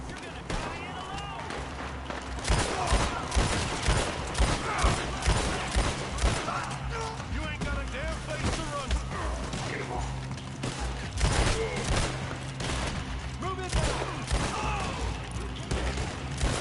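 Rapid gunfire and mechanical weapon clatter from an online PS4 shooter, dense and continuous throughout, with someone talking over much of it.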